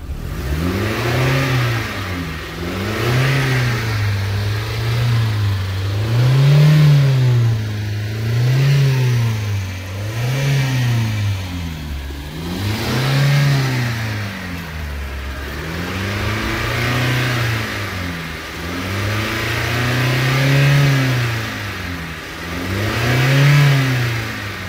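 A jeep stuck on a muddy road revs hard in a steady pumping rhythm, its engine surging and falling again and again as the pedal is worked, loud and close with no talking.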